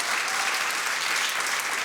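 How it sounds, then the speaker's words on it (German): Audience at a song contest finale applauds, a dense, steady wash of many hands clapping close and loud throughout, with no voices over it. "Euer Applaus."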